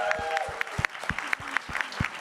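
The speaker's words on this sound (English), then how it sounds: "Can we please give Gitanjali a round of applause?" Scattered, loosely spaced claps ring out from the audience at the WSIS+20 High-Level Event summit hall, each one sharp and distinct over a low murmuring room tone, with a faint voice briefly present.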